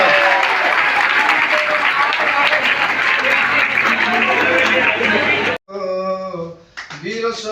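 A crowd at a youth rally gives loud, dense applause for several seconds, which stops abruptly before someone speaks.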